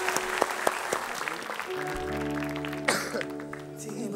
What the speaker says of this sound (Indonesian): Tepuk tangan dulu buat Pak Intan.